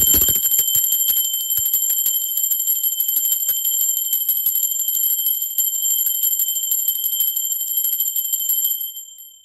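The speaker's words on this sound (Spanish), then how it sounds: "Ahora sí, va campana." A bell ringing with a sustained, bright metallic tone that holds steadily for about nine seconds before fading out at the end, sounding alone over faint background ticks.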